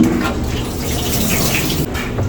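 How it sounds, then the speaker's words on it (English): Rinse water draining out of a pot or sink after a quick rinse while preparing stew chicken, a steady close gushing and rushing sound that runs unbroken and fairly loud. "Now drain that water out."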